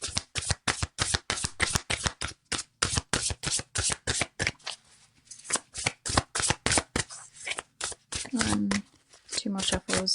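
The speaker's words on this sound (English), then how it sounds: "Two more shuffles" Tarot cards are shuffled by hand in quick repeated riffles, a close crisp flutter of card edges broken by short pauses, while someone speaks softly in between.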